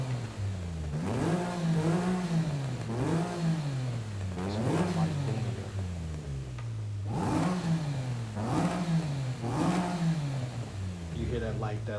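A tuned car engine in Forza Horizon 5 revs repeatedly, rising and falling in pitch in a series of loud close bursts, with a voice speaking over it at times.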